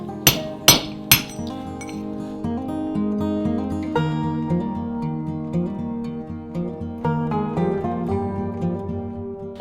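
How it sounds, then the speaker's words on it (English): Hammer blows on a chisel cut through a concrete block outdoors in the rain: three sharp, loud ringing strikes open the sequence, followed by a lingering metallic clink and scattered lighter taps. "I guess we'll give ye old chisel a try."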